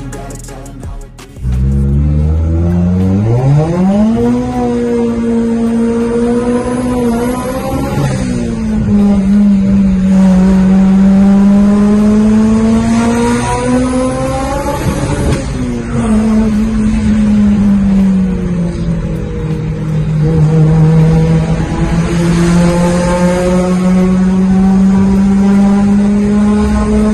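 Mitsubishi Evo IX engine revving loudly in Quito, Ecuador, rising through several long pulls and settling between them, close and sustained for nearly half a minute.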